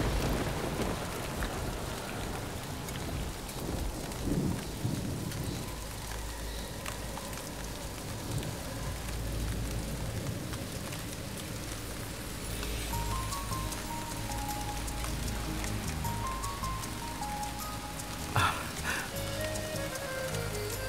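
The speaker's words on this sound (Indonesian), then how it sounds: "Kenapa turun hujan seperti ini?" Heavy rain with thunder in a TV drama scene, a dense continuous downpour with low rumbles and a sharp crack near the end, mixed with other faint scene sounds.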